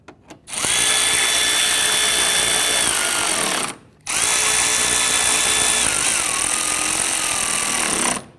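A power drill or driver fastening upper headlight hardware on a 2011-2015 Kia Sorento, two loud close bursts of whirring motor, each several seconds long, pitch dropping as the fastener tightens, separated by a short pause.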